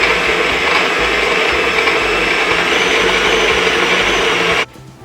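A stand mixer with a chilled bowl and whisk whips cold cream. Its loud, steady motor whir fills the kitchen, then cuts off abruptly just before the end.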